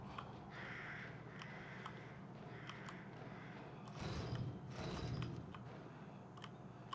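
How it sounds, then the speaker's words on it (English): Crow caws ring out intermittently within the eerie ambience of the game Resident Evil Village, moderately distant calls over a steady background hum with some creaking mechanical texture. "Shut up, bird."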